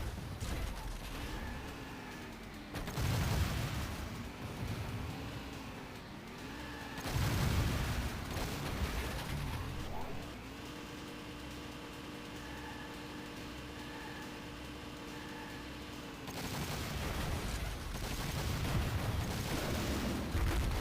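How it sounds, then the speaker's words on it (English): Gunfire and a called-in airstrike in the Transformers Autobots DS video game: dense bursts of shots and booming blasts crowd the mix, with heavier impacts surging at intervals and a steady electronic drone between them. "We are under fire. Calling an airstrike."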